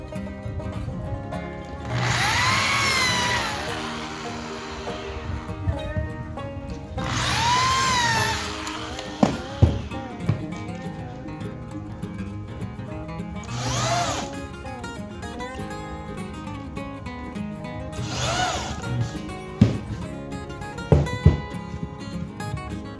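A power drill bores a 12 mm hole for a bolt while a homemade 220 V pyrograph is being built. The drill runs in several loud bursts with pauses between them, mixed with clatter and knocks.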